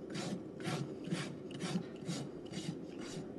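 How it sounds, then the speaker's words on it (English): A Heller hoof rasp with a green tang files down a horse's hoof during trimming, a steady run of about eight rough back-and-forth scraping strokes, close and clear, with no voices. "I'm gonna take my green tang, Heller rasp. This is my favorite."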